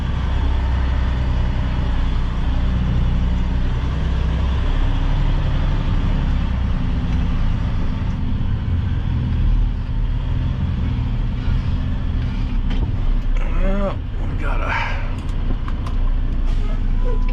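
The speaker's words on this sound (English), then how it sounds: "This truck does not like backing up with a load" A truck reverses slowly with a loaded trailer, its engine droning steadily and loudly up close, with some faint clatter near the end.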